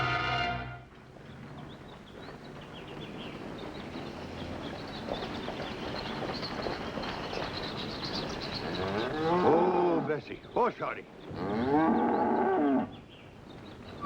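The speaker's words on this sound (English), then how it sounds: "Won't you listen to that cow now?" A cow moos long and loud at close range, a drawn-out bellow that rises and falls, followed by shorter lowing calls near the end, with a brief word spoken just before.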